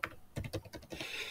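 Quick, close keystrokes on a computer keyboard, a short run of distinct clicks on their own with no talking.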